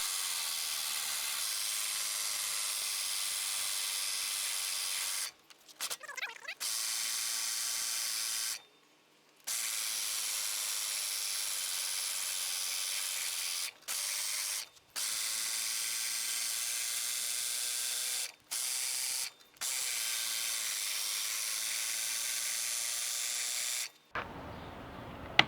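A manual reel lawn mower's blades spin against the bed knife with valve lapping compound, making a steady, close, hissing whir that runs evenly and stops briefly several times.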